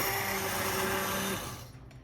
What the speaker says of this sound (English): this is immersion blender